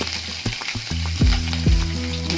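Green chilies and curry leaves fry in hot oil with a steady loud sizzle, sharp pops and crackles bursting through, and a few stirring scrapes in the pan.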